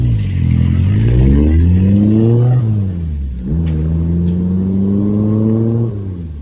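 A car revs up close and pulls away, its engine pitch climbing through two gear changes before settling into a steady, loud drone as it moves off, with no voices.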